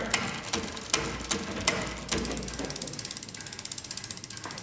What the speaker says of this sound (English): Okay, so let's continue on changing the gears. So one by one we're going higher,